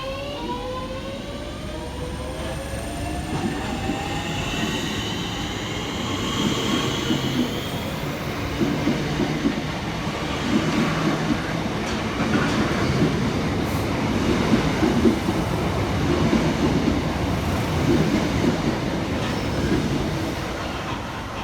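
Southeastern Class 466 and 465 electric multiple units pull out of a station on the Hayes line, a loud sustained rumble of wheels with rising motor whine and squealing tones as the train gathers speed.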